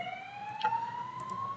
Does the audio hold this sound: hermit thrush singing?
no